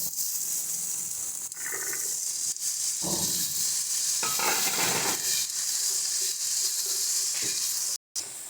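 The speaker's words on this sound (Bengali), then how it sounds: "ভালো করে পুয়ের দানাটাকে মিশিয়ে নিচ্ছি" Malabar spinach seeds being stirred into frying vegetables and spices in a pan, a steady close sizzle with scraping stirs coming in bursts throughout and no one talking.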